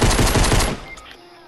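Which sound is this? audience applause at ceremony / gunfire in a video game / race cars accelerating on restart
gunfire in a video game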